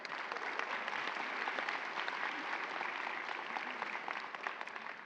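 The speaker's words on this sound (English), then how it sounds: "Yep, give it a round of applause." High school graduation audience gives a steady round of applause, a dense, even wash of many hands clapping at a distance from start to finish.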